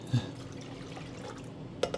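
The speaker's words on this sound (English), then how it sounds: "1 2/3 cup of milk. Action-packed pouring." Milk poured into a cup at a home kitchen counter, a soft continuous liquid trickle with a small clink near the start and two brief taps near the end, quiet and close.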